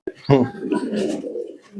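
A fancy pigeon at a pigeon farm in Natore gives a close, loud, throaty coo followed by softer, lingering cooing murmurs.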